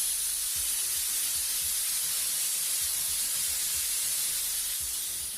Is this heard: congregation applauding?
no